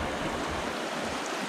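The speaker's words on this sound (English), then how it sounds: "So this is the Bright Angel Creek, just south of Phantom Ranch." Bright Angel Creek rushes along just south of Phantom Ranch in the Grand Canyon, a loud, continuous broadband wash of flowing water close by with no voices.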